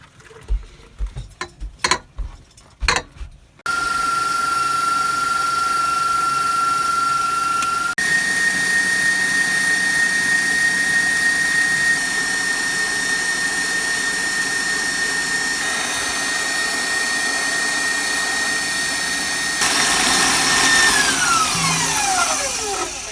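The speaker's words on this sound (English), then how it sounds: "So we're gonna switch to the mixer." An electric mixer whips cream into butter, a steady loud motor whine running alone for about twenty seconds after some brief knocks, its pitch stepping up partway and then winding down at the end.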